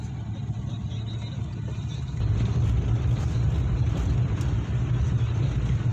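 Midday city traffic on a street in front of a central building gives a continuous low rumble of passing and idling vehicles that swells slightly louder partway through, with no talk.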